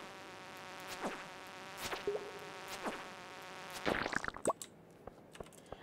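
Bees buzzing in Stardew Valley, a steady insect drone over game music with several sharp sweeping tones, and a cluster of brief clicks and plops near the end.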